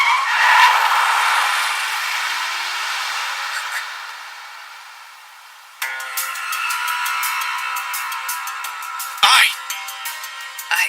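A car skids in an anime scene with a long, loud tire screech that gradually fades, then a bright chiming burst and a brief whoosh follow.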